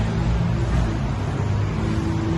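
A 2021 Dodge Challenger idles steadily and loud up close, its exhaust running through single chamber V-tube mid mufflers with the rear mufflers removed and 3.5-inch quad black tips, giving a dense, continuous low rumble.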